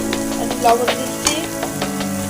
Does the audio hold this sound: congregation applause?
no